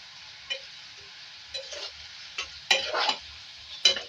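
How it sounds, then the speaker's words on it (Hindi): Raw banana chips frying in oil, a low steady sizzle punctuated by several short scraping and clinking strokes of a utensil in the pan, close by. "देखिए फ्राई हो रहा है"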